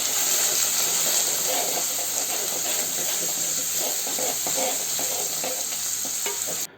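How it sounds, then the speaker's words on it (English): Shallots fry in a hot pan with asafoetida for a bitter gourd curry, giving a steady, close sizzle and hiss that runs unbroken and cuts off at the end. "Now fry the shallots till it gets glossy."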